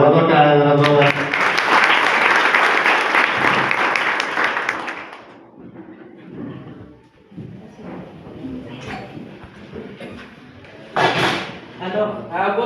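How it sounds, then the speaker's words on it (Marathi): An audience claps in a dense burst of applause for a few seconds at a student drama performance, then it fades as scattered voices and a brief louder clatter follow. "टाळ्या वाजवा, टाळ्या जरा जोरात."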